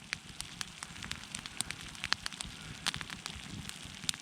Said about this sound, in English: So my wood stove little fireplace is going good.